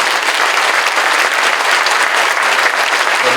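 A church congregation at a Korean Christian anniversary worship service claps loudly and continuously, a dense even wall of applause throughout.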